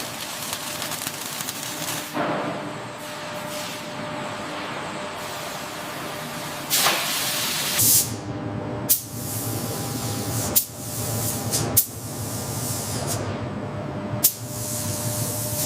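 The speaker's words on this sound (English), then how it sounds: "The robotic systems move in perfect synchronization, applying the complex three-tone camouflage pattern with unparalleled precision" Robotic spray guns apply a three-tone camouflage pattern to an F-18 Hornet fighter in a factory, giving a steady loud hiss with several sharp bursts and clicks along the way, no talk.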